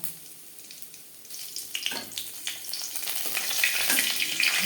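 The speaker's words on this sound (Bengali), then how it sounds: "দিয়ে দিয়েছি তিন চামচ রিফাইন্ড অয়েল ফোড়নে দিয়ে দেব শুকনো লঙ্কা গোটা জিরে তেজপাতা" Dry red chilies, whole cumin and bay leaf tempering in three spoons of refined oil in a kadai for mixed vegetable dal. A soft hiss with a few clinks swells into a bright, steady sizzle that grows louder toward the end.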